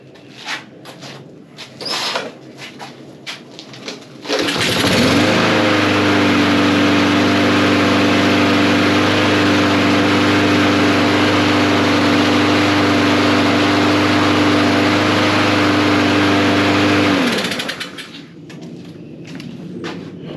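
A Honda push mower engine catches after a single pull and runs at a steady, loud drone for about twelve seconds before shutting off, with quiet handling noises before and after.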